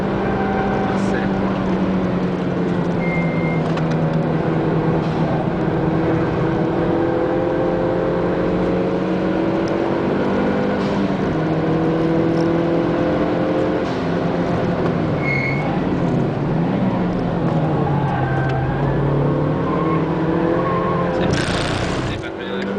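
Car engines and tyres on the Hungaroring circuit during a track day as a small Mazda takes a corner, a continuous droning engine note rising and falling in pitch, with people talking over it throughout.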